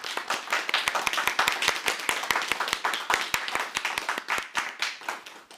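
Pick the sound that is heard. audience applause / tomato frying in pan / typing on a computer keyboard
audience applause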